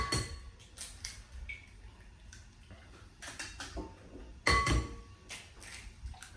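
Several eggs cracked one after another into a bowl in a home kitchen while breakfast is made: scattered sharp taps and clinks against the rim, with one louder knock and splash near the end.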